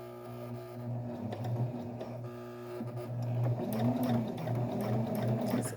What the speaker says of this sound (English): right now I'm sewing with one hand and holding the camera with the other